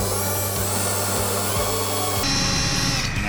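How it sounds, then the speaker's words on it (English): A blunt workshop drill bores a hole through a Landcruiser panel van's body panel, a steady close grinding whine with a droning motor hum that shifts to a harsher, brighter pitch near the end. "Drill a hole, bro."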